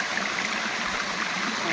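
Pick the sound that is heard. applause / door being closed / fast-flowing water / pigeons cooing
fast-flowing water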